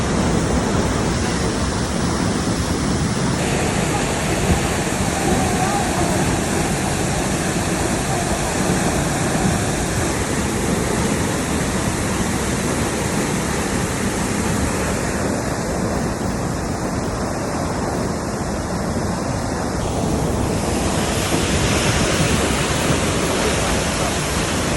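Mindamora Falls, first tier, pours as a loud, continuous rushing roar of falling water with wind buffeting the microphone.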